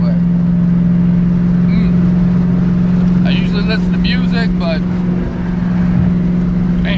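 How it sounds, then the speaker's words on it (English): A Ford Mustang with a Coyote Aluminator V8 cruising on the freeway, heard from inside the cabin as a loud, steady drone throughout, with someone talking over it. "listen to the car just roar down the freeway"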